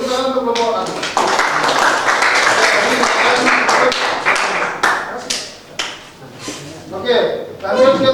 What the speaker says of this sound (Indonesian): Boleh tepuk tangan untuk kelompok A.